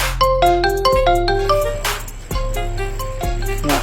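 Phone text message notification tone, a bright chiming melodic ringtone of quick repeating tonal notes that plays loudly and continuously, with no talk over it.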